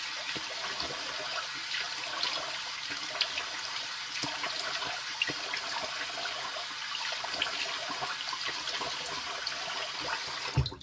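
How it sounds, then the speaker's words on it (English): Cold tap water runs steadily into a bathroom sink for a rinse after a close shave with a vintage slim adjustable razor, a continuous close splashing stream with no talking. "now time for the cold water rinse"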